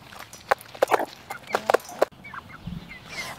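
Several hens cluck in short, sharp bursts close by, a quick irregular run of calls followed by quieter scratching and softer clucks.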